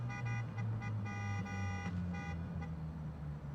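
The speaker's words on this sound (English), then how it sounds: "Stop honking." Car horn honking in a repeated stuttering pattern of short, loud blasts over a low idling vehicle rumble, close by and with no talk over it.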